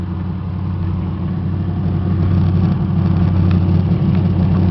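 Dodge Caravan passenger van with a 3.3 V6 engine running steadily, a low, even engine hum close by that swells slightly as it goes on, with no talking.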